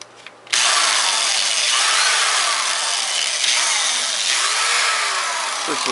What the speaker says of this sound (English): Now I can just come along with the drill, loosen these off